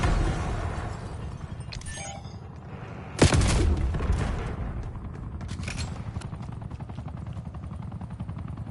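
Hellstorm missile strike in Call of Duty Black Ops 6: one sudden, heavy blast with a rumbling tail, set within steady battle din and rotor-like drone.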